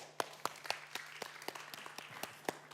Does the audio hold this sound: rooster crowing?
no